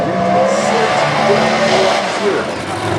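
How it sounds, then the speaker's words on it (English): Loud, continuous roar of a competition dragster from Illinois, a Kirkman Composites team car with a pro stock Ford engine, running at the US Nationals drag races, with an announcer talking over it. "That dragster from Illinois"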